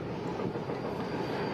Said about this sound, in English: This is a train we're passing a siding here.